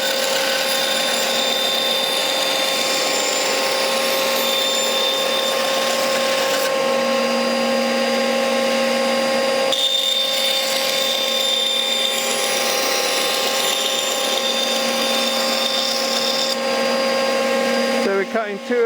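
A woodworking bandsaw cuts small wooden squares while a dust extractor runs continuously, giving a loud, steady motor drone with shifts in pitch as the blade bites, ending with a brief clatter.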